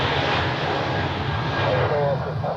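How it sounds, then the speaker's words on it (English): A Eurowings airliner from Düsseldorf lands on runway 14 at Zurich Airport, with a steady, broad engine roar heard from a distance, continuous and unbroken throughout. "The Eurowings from Düsseldorf just landed on 14."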